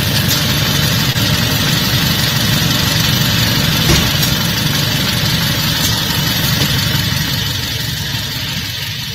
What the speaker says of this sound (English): Chris, you telling me this thing is running, so it's obviously hot.